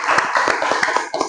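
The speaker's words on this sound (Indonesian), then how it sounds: "Tepuk tangan dulu buat Komang Desuta." Group clapping for a participant at a Balinese community gathering, a short burst of fairly quick, uneven hand claps close by, over a steady room hum.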